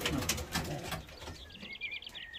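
Racing pigeons in a widowhood loft coo and chirp faintly, with a bright trilling call emerging midway over a rustling, shuffling background and brief wing movement; people talk in the first part, then the birds are heard more clearly.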